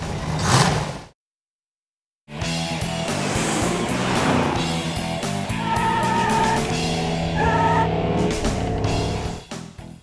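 A finished crate-engine Camaro muscle car fires up after a short cranking burst and a silent pause, then settles into a loud, steady, rumbling idle with some clatter and no talking.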